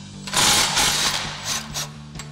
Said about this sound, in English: we're gonna go ahead and use our 13mm socket on our impact to go ahead and get that off